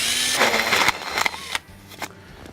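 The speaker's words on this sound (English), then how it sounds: "we can use our hole saw, and we're going to go find that mark and then drill through" A hole saw drills through plastic drain pipe, a sharp, bright grinding whine under load that stutters and cuts out in short bursts, close and fairly loud.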